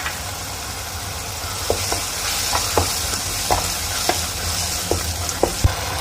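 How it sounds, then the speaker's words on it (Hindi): Yogurt stirred into a frying tinde dal masala, a steady hiss of sizzling with a series of light spoon taps and scrapes against the pan, close and moderately quiet. "इसमें हम दही डाल देंगे और इसको अच्छी तरह भून लेंगे।"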